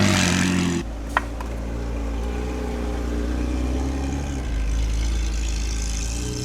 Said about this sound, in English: I believe it was the F50 where they switched from the twin turbo V8 to the V12. You can actually hear it.